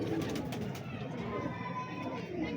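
Low, soft cooing of Sialkoti pigeons murmurs continuously amid a busy background of other birds and ambient noise, fairly faint and close.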